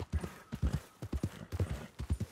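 Horse hooves clip-clop in Red Dead Redemption 2 gameplay, a steady galloping rhythm of close, loud thuds with no talk over them.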